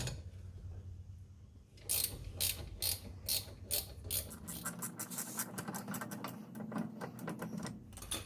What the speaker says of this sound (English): once again, ratchet spanner to the rescue